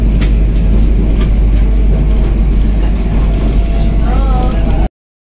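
Vande Bharat Express running at speed through a railway station without stopping: a loud, constant rumbling roar of wheels and rails with a few faint clicks, cut off abruptly near the end.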